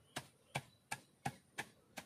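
Raw peanuts being crushed on a traditional stone shil-nora grinding slab, with six evenly spaced dull thuds of the stone, quiet and close, and no talk.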